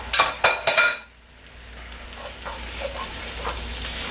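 Andouille sausage hits a hot pan with vegetables and roux. Spoon-and-pot clatter comes in a few sharp knocks, then settles into a steady close sizzle of frying.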